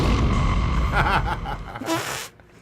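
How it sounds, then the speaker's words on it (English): A comic fart sound effect from a movie trailer, a long, close, rasping blat that wavers and sputters before trailing off into a brief higher squeak. "But speaking of farts, we have another."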